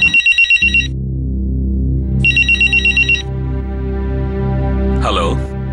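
A telephone rings in two bursts of repeated electronic trills over a steady low background hum, ending with a brief voice near the close.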